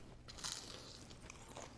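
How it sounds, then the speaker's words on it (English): Teeth bite into crispy, crunchy homemade chicken nuggets, giving a short, quiet crackle and crunch up close followed by faint chewing, with no speech. "Listen to this crunch."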